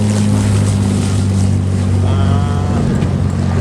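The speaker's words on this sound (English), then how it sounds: "the P-51 Mustang is rolling in after a 30-minute flight" A P-51 Mustang rolls in after landing, its piston engine a deep steady drone with strong low harmonics that holds level throughout, mixed with wind noise outdoors.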